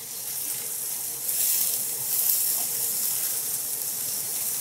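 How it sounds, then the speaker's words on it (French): A tomato roasting in a hot pan gives a steady, even sizzle and hiss throughout, fairly close and continuous without pause. "On va faire rôtir notre tomate comme ça."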